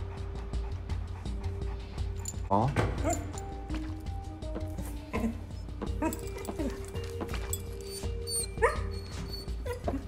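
A dog whimpers and gives a few short yips and barks at close range, mixed in among people talking warmly nearby.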